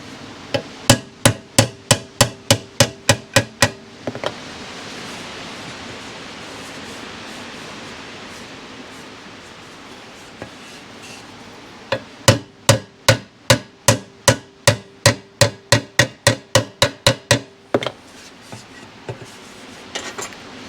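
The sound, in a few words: hammering a dent out of motorcycle metal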